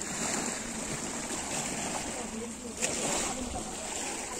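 Sea water at a beach sloshes and splashes continuously around wading feet, with a sharper splash near the end and faint background noise throughout.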